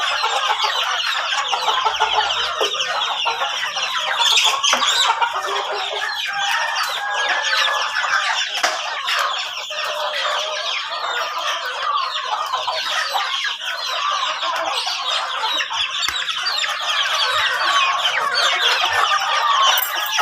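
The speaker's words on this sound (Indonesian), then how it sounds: "Keadaan kandang nih teman-teman mulai tegang ya. Apa penyebab tegang itu tadi? Ayamnya itu banyak kelaparan." Hungry village chickens cluck steadily and loudly in a crowded coop, with a rooster crowing now and then among the dense, continuous flock noise.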